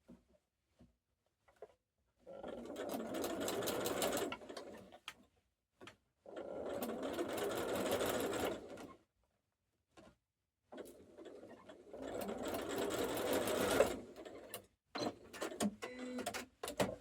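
A sewing machine stitches a quilt binding in three quiet bursts of rapid mechanical clatter separated by pauses, with small clicks and thread handling in between.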